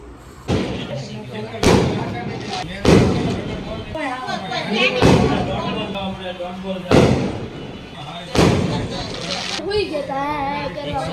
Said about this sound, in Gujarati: આજે દેવ દિવાળી છે ફટાકડા ફૂટે છે